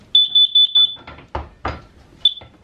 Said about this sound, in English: Is it going off because it's detecting carbon monoxide? No, because I hit it hard.